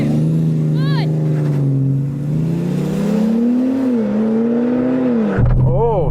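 A car in a drag race roars close by, its engine note climbing and holding at high revs, then dropping and surging again near the end, with a voice talking over it.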